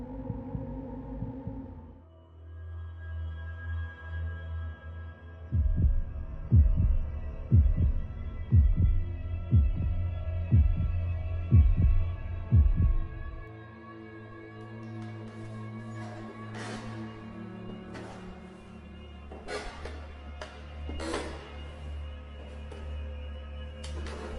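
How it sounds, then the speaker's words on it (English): A pounding heartbeat in a horror story, steady deep double thumps throbbing loud over a low droning hum for several seconds, then fading under a tense ambient bed. "The house was so still he could hear his own heartbeat pounding in his ears."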